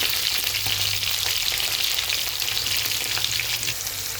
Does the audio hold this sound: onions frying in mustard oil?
yes